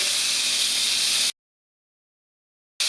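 Bacon-wrapped filet mignon searing in a pan gives a loud, steady sizzle and hiss that cuts off abruptly to silence, then starts again at the very end.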